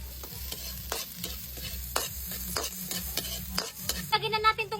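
Onion and garlic sauté in a pan for dinuguan with steady sizzling, and a utensil stirs through them in repeated scraping strokes. A low rhythmic backing thumps underneath.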